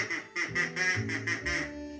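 A human voice imitates a mother duck quacking, giving a string of about six nasal quacks in a steady rhythm, close and clear.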